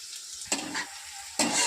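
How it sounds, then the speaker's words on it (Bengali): Onions fry in a pan while a wooden utensil stirs them, a steady sizzle with two sharp scraping strokes, close and alone. "তো দেখো পেঁয়াজগুলো কিন্তু খুব সুন্দর ভাজা হয়ে গেছে"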